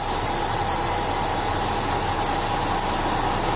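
A semi truck's diesel engine idles steadily as the clutch is let out slowly during a tractor brake check, a constant close rumble with hiss and no talking.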